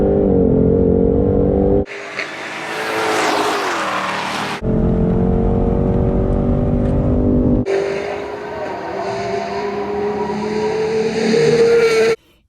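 A Ford Shelby GT500 engine roars and revs in several loud separate segments, with rising and falling engine pitch and strong low rumble, close and dominant throughout.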